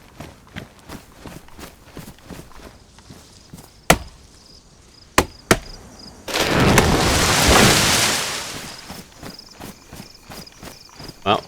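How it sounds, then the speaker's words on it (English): Axe chopping trees in the video game DayZ, a series of sharp, loud wooden thwacks at uneven intervals, followed by a long crashing rush as a tree falls, with quieter ambient game sounds around. "need to cut these two trees down"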